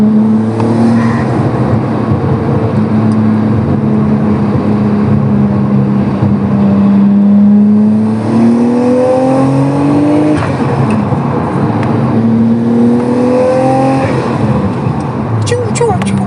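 Tomei-built Nissan Skyline R34 on overrun while driving around Cape Town, a loud engine note with rising and falling pitch sweeps, crackles and a whooshing tone, under a continuous rumble of road noise.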